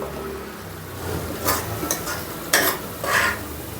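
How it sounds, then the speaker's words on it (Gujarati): Cluster beans with salt stirred in a pan: a soft sizzle underneath a few distinct scraping strokes of a spoon against the metal, close and clear, without talk. "હવે ગુવારને બધાને નાખી દઈએ થોડુંક મીઠું, એટલે જલ્દી ચડી જાય."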